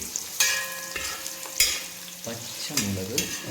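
Garlic sizzles in hot oil for a hog plum pickle, with bursts of frying and metallic stirring scrapes in a few bursts; no voices.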